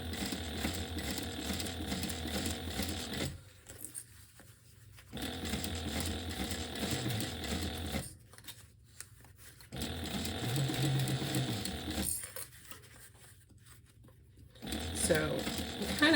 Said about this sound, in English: And then sew 1/4 of an inch or 1/8 of an inch from the stitch lines before, and trim down the seam.